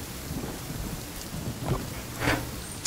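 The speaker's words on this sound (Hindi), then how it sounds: "हम अच्छी खासी बारिश हो रही है" Rain hisses steadily in a video game while rolling thunder swells and fades a few times, ending in a sudden loud crack; no voices.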